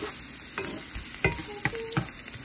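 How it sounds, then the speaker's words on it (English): Garlic and onion sautéing in butter in a pan, a steady close sizzle with several sharp clicks and scrapes from a stirring utensil. "I'm just sauteing the garlic and onion for a little bit."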